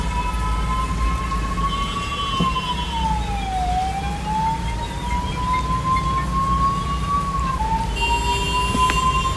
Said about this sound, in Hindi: देखो एम्बुलेंस को कोई भी रास्ता देने के लिए तैयार नहीं है।